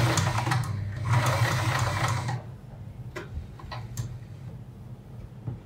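A sewing machine stitches fabric for a churidar kurti neck with a fast close mechanical whirring for about two seconds, then stops, leaving a few soft clicks and handling sounds.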